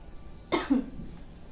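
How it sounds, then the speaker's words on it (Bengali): A single harsh cough from a person with a cold, close and fairly loud, followed by a brief throaty tail and then quiet. "ঠান্ডা লেগেছে, তার সাথে কাশিও হচ্ছে।"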